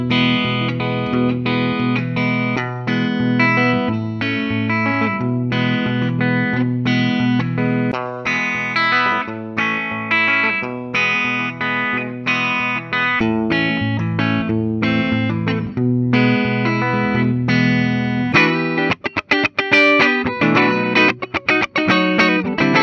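Gibson '61 SG Standard electric guitar in a custom color, played through effects with distortion and chorus: a steady run of loud, sustained chords and riffs that grows choppier and more staccato toward the end, with no voices.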